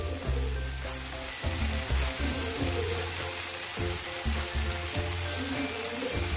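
Potatoes fry in a pan with chili powder and salt, giving a dense, continuous sizzle and crackle close up, with occasional soft scraping as they are stirred.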